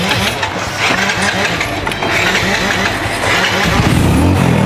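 A motorbike engine starts and runs close by with a loud, rough mid-range rumble that holds steady for several seconds and grows a little toward the end.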